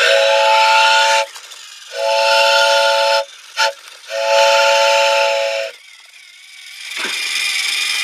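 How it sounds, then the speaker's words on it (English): Steam locomotive whistle from a Thomas the Tank Engine scene approaching a crossing: three loud, steady blasts with short gaps between them, then quiet rumble afterward. "Well, I must do the whistle."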